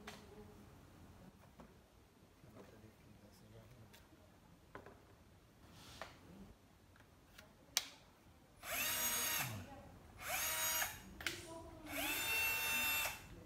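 A Bosch cordless drill drives screws in three loud, close whirring bursts of a few seconds each, after a stretch of quiet clicks and handling noise.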